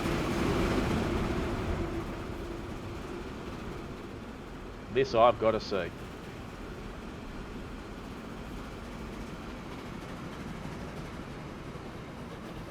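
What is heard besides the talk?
train running in Transport Fever 2 video game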